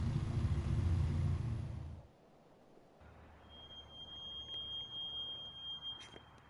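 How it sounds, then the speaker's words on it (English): A B-17 bomber in the Bomber Crew video game rolls with a loud, deep engine rumble that cuts off abruptly as it brakes to a halt, leaving a low hum and a thin high alarm tone. "Stopped an entire B-17 in like a second."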